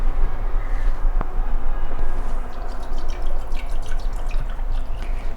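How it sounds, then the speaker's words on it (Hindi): Water is poured into an Agaro electric kettle with steamer, a loud close trickle and drip with a few sharp taps against the container, rising into a splashier flow toward the end. "मिनिमम लेवल तक मैं पानी भर रही हूँ"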